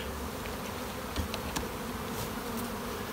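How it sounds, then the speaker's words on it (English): Honeybees from an opened hive drone in a dense, steady buzz during a mite test at a beginners' hive tour, with a few brief louder passes close by; no one speaks. "does this sound like normal bees or is this angry bees?"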